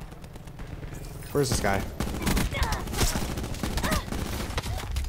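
Rapid automatic gunfire in Black Ops 4 gameplay, dense bursts of shots crackling close and loud, mixed with game effects while a player talks over it.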